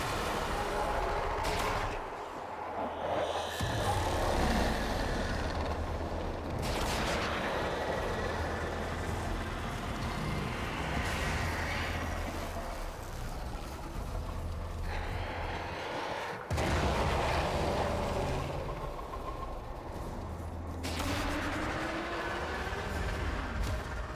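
Explosion in the video game Warframe: a dense, continuous roar of blasts and crackling debris, with loud booming bursts recurring throughout and no speech.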